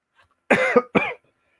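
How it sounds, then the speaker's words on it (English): Two quick, close coughs in a row, loud and isolated against silence. "Oh, excuse me, coughing."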